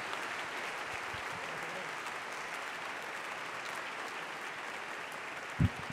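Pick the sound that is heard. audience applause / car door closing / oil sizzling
audience applause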